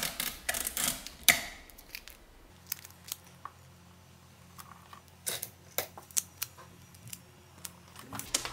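Scissors snip through fabric at the waist of a godê skirt, a quiet series of short crisp cuts spread irregularly across the span, close and soft with no talking.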